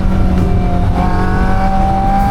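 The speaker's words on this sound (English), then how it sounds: "I literally just let you enjoy the exhaust" A Caterham sports car's exhaust drones steadily while driving on a winding road, a loud, close, continuous engine note with a slight rise in pitch partway through and no talk.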